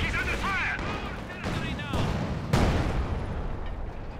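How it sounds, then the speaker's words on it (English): Artillery barrage from ZiS field guns in the strategy game Company of Heroes 2: several heavy booms and blasts land over a few seconds, mixed with battle noise while a commentator talks over them. "Big damage from the Zis, big double Zis barrage."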